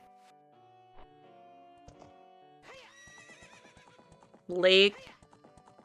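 Horse in a Zelda: Ocarina of Time Randomizer cutscene neighs loudly in one sharp whinny near the end, after soft clip-clop hoofbeats and chiming game music, with a voice briefly speaking.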